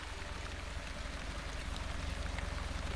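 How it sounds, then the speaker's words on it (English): Light rain falls steadily in a video game, a soft continuous patter with a faint low rumble underneath, even and unbroken throughout with no voices. "Light rain."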